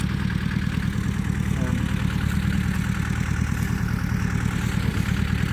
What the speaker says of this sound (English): we're gonna get over here and plow in between these rows since Dad got the tractor cranked up